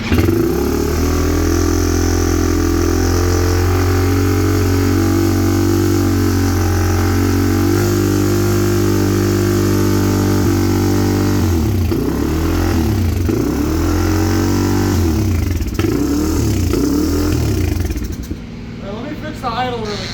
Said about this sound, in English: Even if it's a little bit of a fast idle, it's fine, just not revving it up.